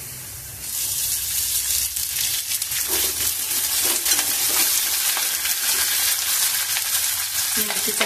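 Green chillies frying with cooked potatoes in a pan for a sago usal dish: a loud, continuous bright sizzle with crackling spatter, close up, steady throughout with no talking.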